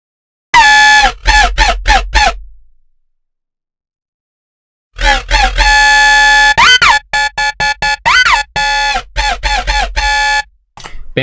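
Wonky riddim synth patch made in Serum, loud honking, goose-like bursts with pitch bends, played in choppy rhythmic stabs, pausing for a couple of seconds before resuming in a longer run.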